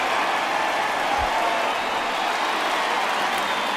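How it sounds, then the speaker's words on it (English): Simulated crowd at a Colorado Rockies baseball video game, a steady wash of cheering and applause filling the background, moderately loud and continuous. "Really exciting the crowd"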